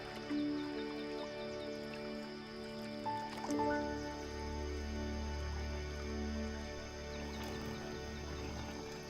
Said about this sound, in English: Bathing in the muddy shallows is the perfect way to cool down.